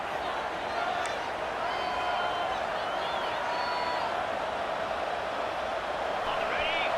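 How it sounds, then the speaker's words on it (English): A stadium crowd cheers with steady, dense roar in a college football video game, holding a constant wash of noise throughout with faint whistles and calls rising above it, while a commentator talks over the top. "Listen to the crowd energy here in the early going."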